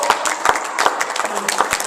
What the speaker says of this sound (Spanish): ¿alguien puede darle fuerte aplauso a Cristo?